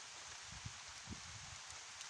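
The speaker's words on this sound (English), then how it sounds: "it's pitch black and also it's raining" Steady rain falling in pitch darkness outdoors, a soft even hiss of drops with faint patters on nearby surfaces, continuous and fairly quiet.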